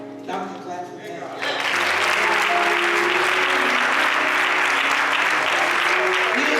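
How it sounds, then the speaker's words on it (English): A room full of people bursts into loud, continuous clapping that swells and holds after a brief stretch of tonal sound, dense and close with no pause for several seconds. "Y'all can clap for that."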